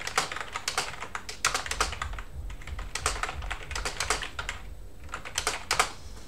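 Typing on a computer keyboard during a GhostBSD 11.1 desktop test, with rapid clustered key clicks in uneven bursts and short pauses, close and clear over a faint low thumping background.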